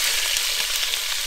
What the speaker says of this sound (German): da drin braten wir jetzt unser Fleisch an